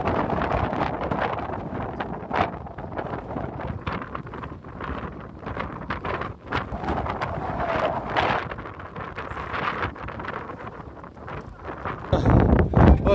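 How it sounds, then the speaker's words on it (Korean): Strong wind buffets the microphone at a seaside fishing spot on Chujado island in Korea, a steady loud rushing roar that gusts harder toward the end, with no talk. "바람 우와 징글징글하게 터지네"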